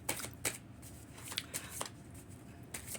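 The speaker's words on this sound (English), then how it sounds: "I'm going to pull a couple teal swan cards." Teal Swan oracle cards shuffled by hand, giving a quiet run of papery riffling with several sharper snaps, close and alone with no talking.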